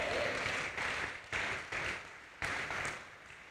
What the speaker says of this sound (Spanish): Dale otro aplauso fuerte a Dios.